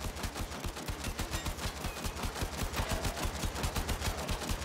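Rapid, steady machine-gun fire in the Warframe video game, shots hammering at a machine in a continuous close, loud stream.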